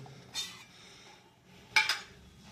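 A steel tiffin carrier lid is lifted off after steaming tengra fish with poppy seed paste over a water-filled wok, giving two short metallic clinks and clatters, one early and one louder near the end, with quiet kitchen hum between.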